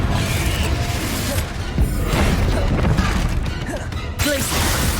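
A Confringo fire spell from Hogwarts Legacy sets off booming, crashing blasts amid ongoing combat noise, with repeated impacts and a sharp cutoff near the end and some voice mixed in.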